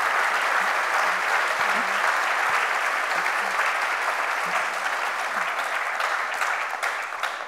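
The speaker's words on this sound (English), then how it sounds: "So now you can give them a big round of applause." Dense, steady applause from a conference audience at a faith-and-science session on the climate crisis, filling the room loudly and evenly for several seconds with no voices over it.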